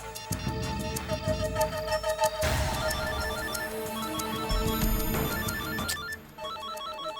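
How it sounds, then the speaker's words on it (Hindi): A telephone rings with a bright repeating electronic ringtone over a busy musical background, loud and continuous, with no talking. "इतनी देर क्यों लगा दी फोन उठाने में?"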